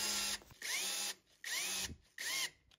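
Cordless power driver with a socket spins to tighten a threaded rod during a high-end shower fixture installation, three close whirring bursts with short gaps, a ratcheting edge, no talk.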